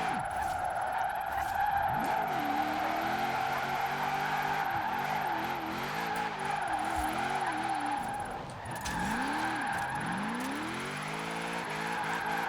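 Tires squealing as a car drifts through corners in Forza Horizon 4, long wavering screeches over a steady engine drone, rising and falling with each slide and continuing nearly unbroken for several seconds.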